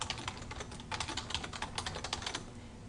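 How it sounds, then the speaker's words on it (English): Computer keyboard typing in a quiet room, a steady run of close, crisp key clicks in quick irregular bursts with no talking. "Then we need to type Miss Lucy Song."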